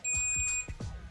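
A digital multimeter beeps while testing a capacitor, giving a loud steady electronic tone that holds for about half a second and then cuts off, followed by faint handling noise.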